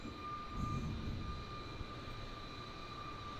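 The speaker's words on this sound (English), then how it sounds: "We're about to get a taste of what it would have been like to see the Airbus A380" An Airbus A380 engine drones as it lands at Kai Tak in the MSFS2020 flight simulator, a faint steady roar with a sustained whine held throughout, without talk.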